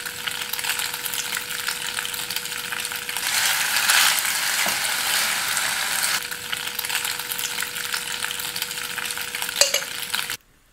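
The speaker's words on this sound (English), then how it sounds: "I will add some olive oil to a pot and then add some chopped garlic and the boiled macaroni" Chopped garlic and boiled macaroni fry in olive oil in a pot, a steady close sizzle with a few scraping stirs and a clack near the end.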